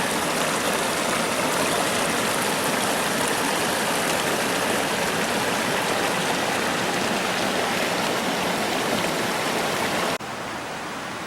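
A mountain stream rushes steadily on a hike toward Lake Katherine, a dense, continuous, close wash of flowing water with no voices, dropping slightly in level right at the end.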